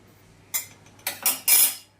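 Kadhai pan set on a gas stove, a few sharp metallic clinks and clatters of utensils in quick succession, close and fairly quiet.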